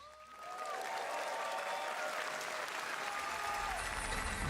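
Crowd applauding at a game trailer showcase, dense sustained clapping that swells in within the first half second and continues steadily, with faint tonal sounds from the trailer underneath.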